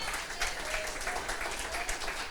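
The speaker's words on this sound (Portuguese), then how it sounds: "Você quer aplaudir?" Congregation applauding during a church service, a dense, steady wash of many hands clapping that fills the whole clip, with a faint voice or two underneath.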